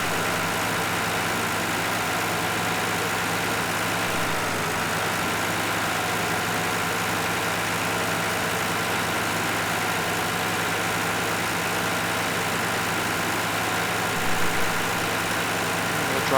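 A tractor engine idles steadily in Farming Simulator 2013, a constant low mechanical hum with a faint vibration that holds at an even level throughout, with no voices over it.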